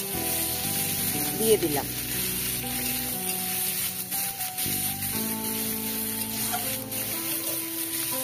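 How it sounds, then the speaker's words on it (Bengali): Chopped onion going into hot oil already tempered with cumin seeds and bay leaf, giving a steady close sizzle throughout, with someone speaking briefly over the frying. "ওই তেলের মধ্যে আবার আমি জিরে তেজপাতা ফোড়ন দিচ্ছি, আর এই যে কুচনো পেঁয়াজ"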